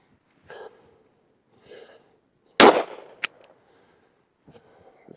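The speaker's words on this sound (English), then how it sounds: "So let's shoot a group at the top right target. 10 shots. We've got the PMC bronze again." A single loud handgun shot fired with PMC Bronze ammunition at a range cracks sharply, followed quickly by a brief metallic click, with soft breaths heard before and after in otherwise quiet surroundings.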